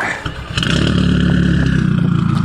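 Audi TT 8N 225 hp engine with a new exhaust line, idling then blipped and held at a raspy, pulsing rev, close and loud for about two seconds.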